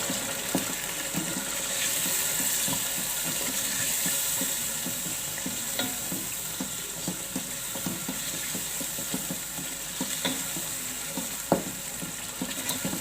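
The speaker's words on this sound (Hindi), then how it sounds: "लाल मिर्चें शामिल करेंगे और ये सिंधी बिरयानी मसाला शामिल करेंगे। मिक्स करेंगे।" Beef fries in a pot with red chillies and Sindhi biryani masala for beef Sindhi biryani, making a steady sizzle under repeated clinks and scrapes from stirring, heard up close without talk.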